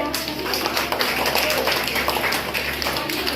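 Crowd applause at a dance competition prize ceremony, steady dense clapping close by and fairly loud, running continuously without pause.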